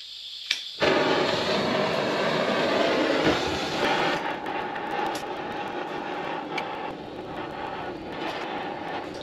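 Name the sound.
blowtorch heating car steering part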